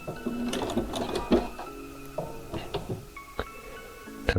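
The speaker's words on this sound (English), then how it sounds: "Do a few locking stitches and cut the thread." A Bernina sewing machine runs a few locking stitches at the end of a quarter-inch seam, with a close, rhythmic mechanical whirring and clicking that starts and stops in short bursts.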